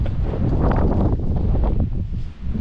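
Steady, heavy wind buffeting the microphone outdoors in snowy mountains, a loud low rumble that continues throughout with brief dips.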